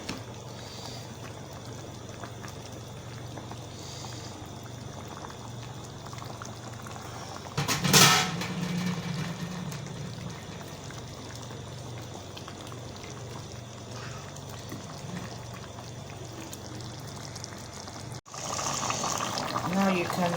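Soup bubbles and boils steadily in a pot, a constant simmering hiss interrupted by a brief clatter partway through.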